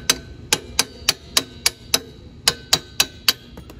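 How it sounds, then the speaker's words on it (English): A hammer taps an inch-and-a-quarter socket extension during a tire and shock change on a 72V electric dirt bike, about a dozen sharp metallic strikes in a steady, fairly quick rhythm, close and clear. "Inch-and-a-quarter extension and a hammer."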